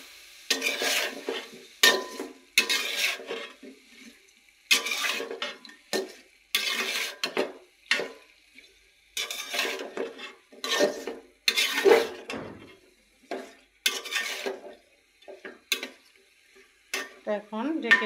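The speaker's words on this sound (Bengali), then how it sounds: "এখন আমি ভালোভাবে এগুলোকে মিক্স করে কষিয়ে নিব।" Fish curry with vegetables, chili powder and salt being stirred and fried in a pan, a spoon scraping the pan in repeated rhythmic strokes over a soft sizzle, close up with no talking.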